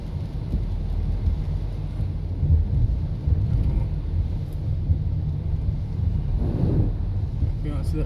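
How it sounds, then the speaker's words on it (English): Heavy rain drums steadily on a vehicle driving through floodwater on the New St Thomas Highway at Bull Bay, Jamaica, with low rumbling road and wind noise throughout and a brief swell near the end; no thunderclaps stand out. "You can see that rain falling and the water is on the road"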